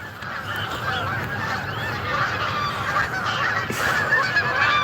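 A flock of geese honks continuously outdoors on a morning walk, a dense overlapping chorus of calls with no one speaking.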